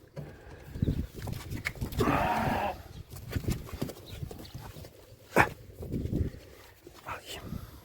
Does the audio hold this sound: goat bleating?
yes